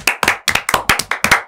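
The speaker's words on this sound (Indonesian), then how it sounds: "Tepuk tangan dulu." Hand clapping from a small group: a quick, steady run of about eight sharp, close claps in even rhythm, loud and clear with no talking.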